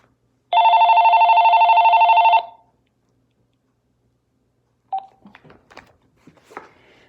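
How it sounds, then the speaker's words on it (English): A mobile phone gives a single loud electronic ring, a steady two-tone burst lasting about two seconds, followed by quiet and then faint handling rustles. "My phone's ringing right now."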